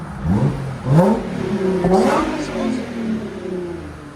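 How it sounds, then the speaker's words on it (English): An Audi A7 with a 3.0-litre supercharged V6 and aftermarket exhaust revs repeatedly, each blip rising and falling close by, while someone talks over the engine. "That's a good sounding car right there."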